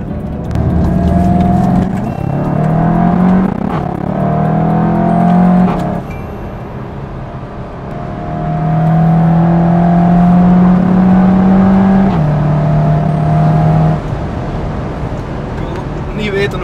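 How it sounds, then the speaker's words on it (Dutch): A SEAT Leon Cupra 290 engine pulls hard up a motorway on-ramp, its drone climbing in pitch through two strong accelerating surges with a brief shift between them, loud and close from inside the car. "op de oprit zijn we eigenlijk al gewoon veel te snel aan het rijden"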